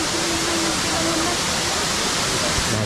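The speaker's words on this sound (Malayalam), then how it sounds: "ആ പാറയിലിങ്ങനെ വെള്ളം വീണിട്ട് ഇങ്ങനെ ചിന്നി ചിതറി വരുന്നത് കാണാൻ നല്ല ഭംഗിയുണ്ട്" Kiliyur Falls in Yercaud pours onto rocks, a loud, continuous broadband roar and splash heard up close, with a faint voice partly under it.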